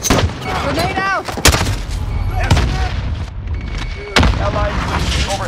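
A grenade goes off during a Hardpoint match in Call of Duty: Modern Warfare, one of several sharp booms mixed in with dense gunfire. Shouted in-game voice callouts run over the battle noise.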